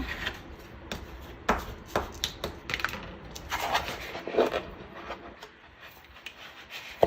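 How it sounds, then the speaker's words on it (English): Transfer tape is burnished firmly onto textured vinyl, producing repeated scraping and rubbing strokes in uneven bursts, close and fairly crisp, with no talking. "I'm going to burnish it very well on the front."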